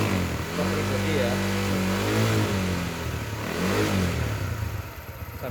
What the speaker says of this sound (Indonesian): sambil digas sambil disemprot dengan cairan pembersih.